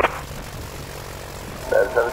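A light airplane's propeller engine hums steadily as power is brought up before a normal takeoff, a low continuous drone from inside the cockpit, with brief speech at the start and end.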